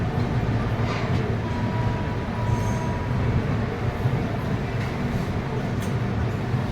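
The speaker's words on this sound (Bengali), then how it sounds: "একেবারে অন টাইম দুপুর 1:45 রাঁচি স্টেশন থেকে ট্রেন ছেড়ে দিয়েছে।" Ranchi–Howrah Shatabdi Express pulling away from Ranchi station: a loud, continuous low rumble of wheels and rattling carriages, heard from close by or on board, with faint squeals over the steady drone.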